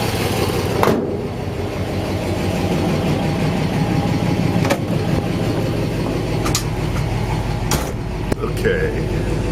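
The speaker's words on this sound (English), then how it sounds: "There's the engine running." A 1950 Oldsmobile wagon, originally a six-cylinder and converted to a four-speed Hydramatic, idles steadily with an even mid-pitched rumble and occasional clicks, close and continuous throughout.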